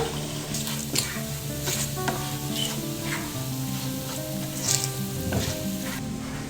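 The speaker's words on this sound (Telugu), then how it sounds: "ఇప్పుడు మనం ఈ కాకరకాయ చూడండి ఇలా ఫ్రై అవ్వాలి." Bitter gourd pieces frying in oil with chilli powder and garlic sizzle steadily and close, with a low background hum and a few soft scrapes and clinks of stirring.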